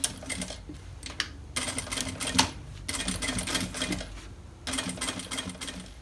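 A sewing machine stitching a luxury bag, its needle rattling in fast runs broken by short pauses, close and fairly quiet, no talking.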